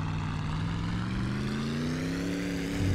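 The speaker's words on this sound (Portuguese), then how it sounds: "agora o trator embalou legal" A tractor engine in My Summer Car revs hard while towing a car out of a river, a steady mid-range drone that rises in pitch as it winds up, loud and continuous with no talk over it.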